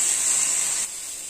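Chopped tomatoes hit a hot pan for pav bhaji, giving a loud, steady sizzling hiss close by that drops to a softer sizzle near the end.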